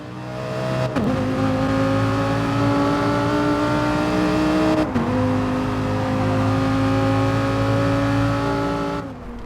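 A Lamborghini race car engine in a racing video game drones steadily and loudly, with sustained harmonic tones dipping briefly at a gear shift or braking moment before climbing again, alone without talk.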